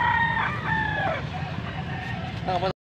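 A young rooster, a stag under a year old, crows at a poultry sale in Angeles, Pampanga. The call is a near, harmonic crow that rises and breaks, followed by a shorter second call over steady background noise.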